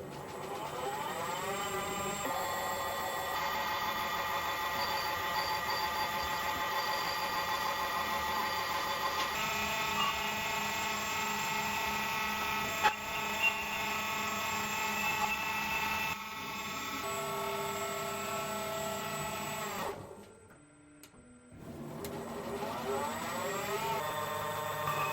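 A homemade CNC lathe cuts a chess piece, its motors whining in steady layered tones with a constant cutting hiss, running continuously for about twenty seconds before briefly dropping out and then resuming.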